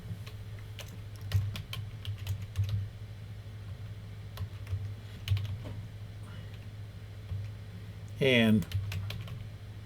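Someone types a long password on a computer keyboard, giving a steady run of light, close key clicks with short pauses, over a low constant hum, and a brief louder burst near the end.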